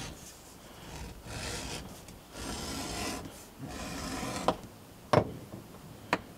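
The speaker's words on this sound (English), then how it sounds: "take the edge off of that strap as it bevels the edge" An edge beveler shaving the edge of a leather belt strap: a series of close, raspy scraping strokes with short gaps, ending in a few sharper clicks as the blade catches.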